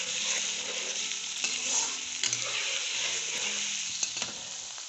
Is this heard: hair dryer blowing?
no